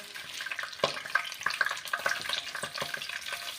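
Namkeen sizzles in hot oil with crackling, spitting pops, close up and fairly quiet, with no one talking.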